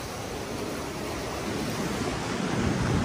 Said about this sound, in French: Regardez ces belles vagues là.